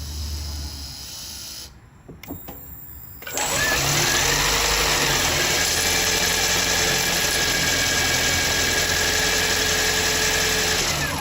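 A four-cylinder car engine cranks and catches after a quiet pause, then settles into a loud, steady idle that runs to the end, with a faint squeal riding over it.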